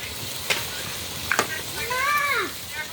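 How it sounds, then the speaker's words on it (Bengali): Spices fry in meat and oil for a biryani cooked outdoors over a brick stove, with a few sharp spatters and a bright sizzle and a voice or whistling tone rising over a soft background. "এখন একে একে সবগুলো মশলা এই গোসের ভিতরে দিয়ে ভেজে নেব।"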